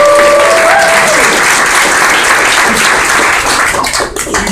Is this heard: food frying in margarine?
no